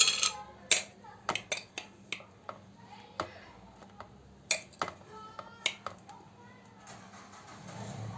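A spoon scoops cocoa and knocks against a bowl or jar, making a run of sharp, close clicks and taps at uneven intervals in a quiet room.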